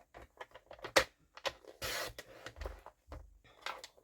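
A strip of paper cut for a moodboard, heard as quiet close crisp snips and short scratchy rustles, with a longer sliding cut in the middle.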